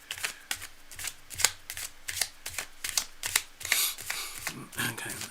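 Tarot cards are shuffled close by in a rapid series of crisp riffles and flutters, repeating in short bursts for several seconds.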